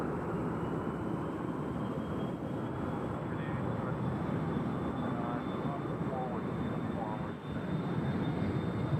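Airplane taking off at Nashville International Airport, a loud, steady engine roar filling the whole stretch without pause, heard from a distance outdoors.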